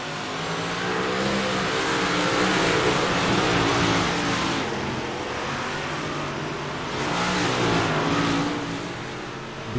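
Big block modified dirt race cars roar around the Eldora dirt oval, engines revving hard and swelling as the pack bangs into the corners and along the fence, a loud continuous wall of engine noise with no talk.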